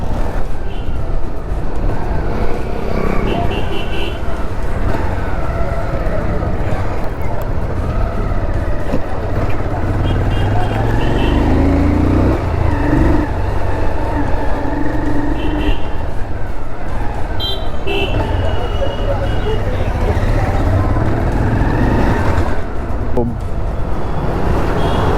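A Yamaha RX 100 motorcycle engine runs loud and close, its rough two-stroke drone rising and falling across the whole stretch, with traffic noise around it.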